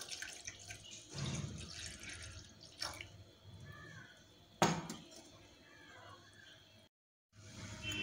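Milk is poured into a pan of cooked sago for aval payasam, a soft liquid trickle and splash with a few dull knocks, faint and close in a quiet kitchen with no talking.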